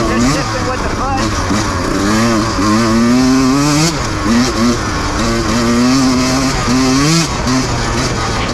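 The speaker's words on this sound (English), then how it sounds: "No clutch at all, right? You're just shifting with the foot." Motorcycle fitted with a Rekluse auto clutch riding and shifting by foot alone, engine revving up and dropping through gear changes in repeated surges, loud and close, with a rider talking over it.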